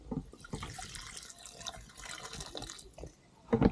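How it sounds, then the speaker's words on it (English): Water poured onto garden soil while planting fruit in a rural Kenyan village during the rainy season, a soft continuous splashing and trickling that swells near the end. "So then I'll put a little bit of water."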